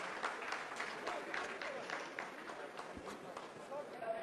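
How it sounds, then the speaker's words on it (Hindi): A room of scientists in the Chandrayaan-3 lunar landing mission control applauds after the second braking phase completes: dense, steady clapping from many hands fills all four seconds at close range, with voices murmuring underneath. "आप इस तालियों के गड़गड़ाहट को सुन सकते हैं"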